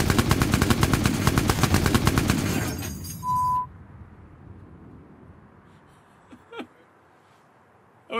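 A Lancaster bomber turret machine gun fires a rapid continuous burst of loud, closely spaced shots for about three seconds, then stops, leaving engine drone, a short tone and scattered faint knocks.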